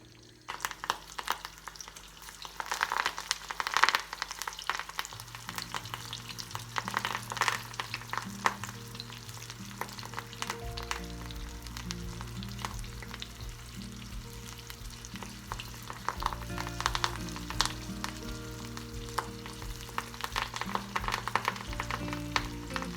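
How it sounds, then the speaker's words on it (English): Hot oil sizzles and crackles steadily as pakoras fry, a constant bubbling hiss with occasional stirring, no voices. "oil is heated out here, and then we're going to sort of start frying the pakoras."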